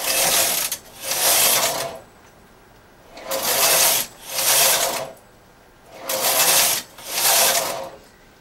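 A knitting machine carriage is pushed back and forth across the needle bed in pairs of rows, making a rasping, clattering sweep about a second long, repeated in three pairs separated by short pauses.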